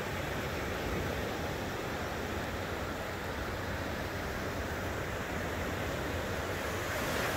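Ocean surf washes steadily onto a sunny beach, a continuous broadband roar of breaking waves with a little wind, fairly close and unbroken for the whole stretch with no voices.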